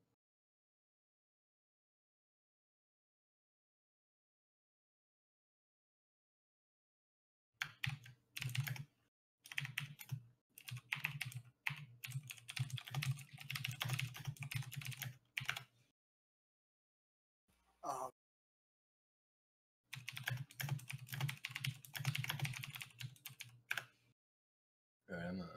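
Loud clattering typing on a computer keyboard comes in fast bursts of keystrokes separated by pauses, close to the microphone, with a brief spoken word in between.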